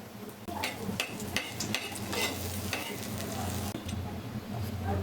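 Cumin seeds sizzle in hot mustard oil in a pan, a steady crackling hiss with brief sharp clinks and scrapes from stirring.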